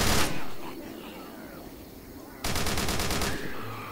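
Gunfire in the Left 4 Dead 2 survival map DeadLock, with a burst at the start and a dense rapid automatic volley near the end, loud and close over game ambience.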